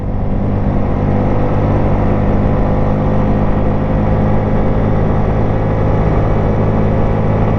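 A 1996 Yamaha Wolverine 350 ATV runs at a steady cruise while being ridden, its engine a constant dense drone mixed with wind and road rumble, loud and unbroken, with no talking.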